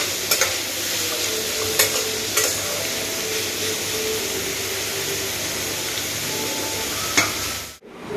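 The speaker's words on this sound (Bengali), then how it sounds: "মশলা তো ভাজা হচ্ছে, মশলা বলতে পেঁয়াজ ভাজতে বসিয়েছি।" Onions frying in a pan with a little salt, stirred now and then, giving a steady close sizzle with a few sharp scraping clicks from the spoon, no talking.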